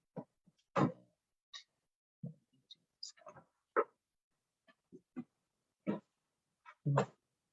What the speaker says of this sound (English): If you hear that noise in the background, that's my cat.